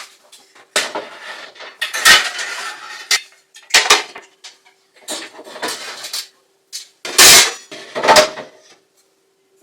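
Metal pots and pans clatter and clang in irregular bursts as someone rummages through kitchen cookware looking for a bread loaf pan, the clanks loud and close with brief quiet gaps between.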